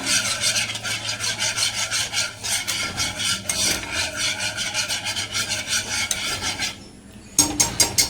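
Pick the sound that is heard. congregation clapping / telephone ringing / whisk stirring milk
whisk stirring milk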